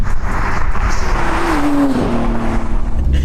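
A Nissan Skyline R34 and a BMW 530d race side by side, engines droning loudly with a rising then dipping pitch as one shifts, heavy road and wind roar throughout and no talk.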